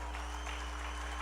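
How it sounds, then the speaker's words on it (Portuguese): A church congregation claps together during a celebration service, a brief, even burst of applause over a low steady hum. "Vocês vão dar um aplauso a Jesus por esse lindo casal"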